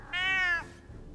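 A cartoon cat gives one clear, high meow lasting about half a second, close and alone over quiet background.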